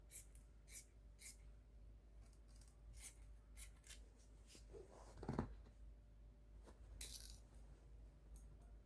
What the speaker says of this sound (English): I'm going to be cutting off from the shoulder line first